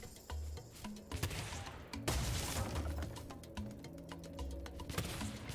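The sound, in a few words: gunfire from shooting in Spyro 3 video game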